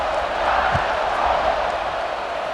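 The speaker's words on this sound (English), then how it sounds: "this crowd is buzzing after that last score" Crowd buzzing in a stadium at a college football game between Auburn and Alabama, a broad steady murmur of many voices filling the whole stretch, with a single soft thump partway through.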